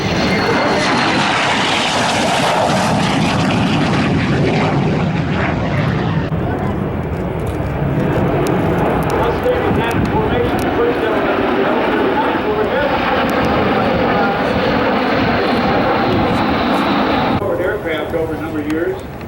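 A MiG-17 jet fighter makes a flying pass at an airshow demo day at EAA AirVenture Oshkosh, a loud, continuous roaring jet engine that swells and holds steady before easing off near the end, with a commentator talking over it.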